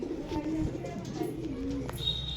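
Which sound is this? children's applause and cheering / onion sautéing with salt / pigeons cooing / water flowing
pigeons cooing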